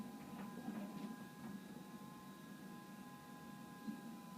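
A Samsung tumble dryer running quietly in a home: a faint, steady low hum with a thin whine, unchanging throughout.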